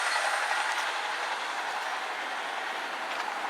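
A Class 175 train runs past a rural level crossing at Onibury, Shropshire, bound for Manchester, giving a steady, fairly faint rolling rumble and hiss with no break for the whole stretch.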